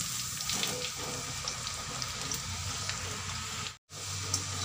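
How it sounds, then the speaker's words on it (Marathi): French fries frying in hot oil, giving a steady close hiss and crackle that runs throughout, broken by one brief moment of silence near the end. "आणि सोनेरी कलर येईपर्यंत अशी फ्राय करून घ्यायची"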